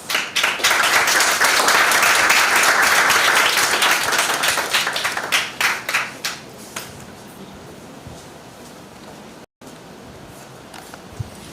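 Audience applause at the close of a high school debating competition, a loud burst of clapping for the first several seconds that thins into scattered claps and then fades to a quiet hall.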